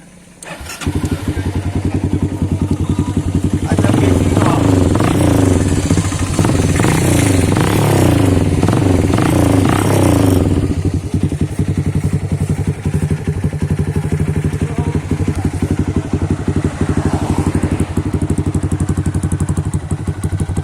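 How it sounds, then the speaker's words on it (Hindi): A modified Hero Karizma ZMR motorcycle with dual exhaust idles with a deep, throbbing exhaust rumble, revving up loudly for several seconds before settling back to a steady idle. "इसका डुअल एग्जॉस्ट का साउंड सुना लेते हैं।"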